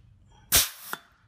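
A hydraulic pump piston on an aircraft landing gear strut, worked by hand: one loud sharp mechanical clack followed by two fainter knocks as the piston cycles up and back, close by with no talking.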